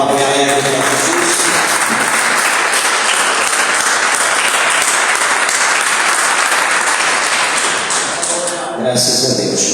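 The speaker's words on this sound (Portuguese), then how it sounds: "Quem pode dar uma salva de palmas bem alegre para Jesus?" Loud, lively applause from a church congregation, dense continuous clapping filling the room for several seconds before cutting off, with some voices mixed in.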